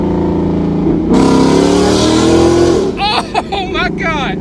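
Ford Mustang GT with cat deletes and a Corsa Xtreme exhaust roars loudly close by, engine note climbing and surging through a downshift, then excited voices shout over the fading rumble.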